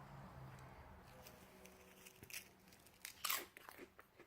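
Shrimp chips crunched while eating, a handful of crisp bites and chewing crackles building toward the end, close to the mouth, quiet and with no talking.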